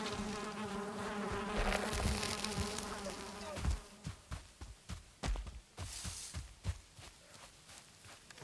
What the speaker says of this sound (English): So we come across a beehive.